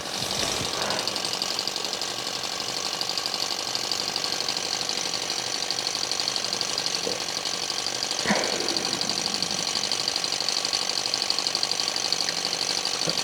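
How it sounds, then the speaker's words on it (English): Small engine on a toy-sized helicopter running steadily, a continuous buzzing drone with a faint rattle throughout, nearby and unbroken, with no talk. "it's the engine, putting the engine to work, making it"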